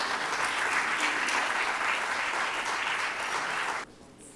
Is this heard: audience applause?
yes